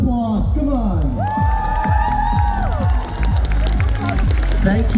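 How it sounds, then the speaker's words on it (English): A crowd at a cosplay catwalk parade at Comic Con Holland in the Brabanthallen claps and cheers continuously and loudly in a large indoor hall, with shouting voices and music mixed through the applause. "One more round of applause, come on."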